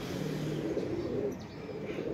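Pigeons being kept for sale coo softly in a low, continuous murmur, a few rounded coos rising above a faint background hum, with no talk.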